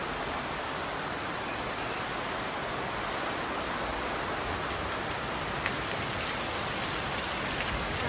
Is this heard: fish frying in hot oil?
no